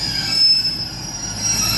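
A CrossCountry passenger train pulls out of Exeter St David's, wheels squealing in a thin, sustained high whine over a low rumble of rolling stock, close and continuous.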